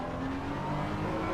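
A BMW M4 GT3 race car in a racing video game at Spa-Francorchamps accelerates at full throttle, its engine note a loud continuous roar rising steadily in pitch.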